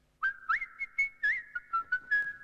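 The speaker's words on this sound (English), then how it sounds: "And Mumfie started to whistle a particularly cheery one." A cartoon elephant whistles a cheery tune, a clear bright melody of short rising and falling notes heard alone and close, with no talk.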